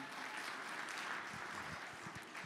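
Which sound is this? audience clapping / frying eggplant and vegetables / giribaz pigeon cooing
audience clapping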